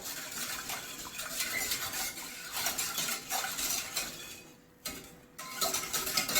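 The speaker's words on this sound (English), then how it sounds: "Stir all the time, so you don't want it catching on the bottom, and it will gradually thicken" White sauce being stirred steadily in a pan over the heat, a continuous scraping and swishing with a brief lull near the end, heard close up with no talking.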